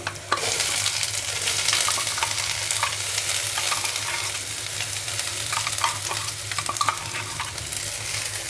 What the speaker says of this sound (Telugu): కొద్దిగా ఫ్రై కానిద్దాము